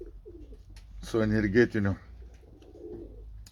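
Poultry birds call briefly in a cooing, bird-like burst near the middle, fairly close, with a voice speaking before and after in a quiet outdoor yard.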